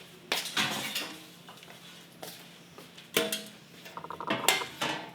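A pan being pulled out in a home kitchen, with loud metallic clanks and rattling of pots and cookware bumping together in close, irregular bursts, no talking.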